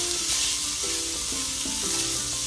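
Cumin, chili powder and other spices sizzling in a pan, a soft, steady frying hiss throughout.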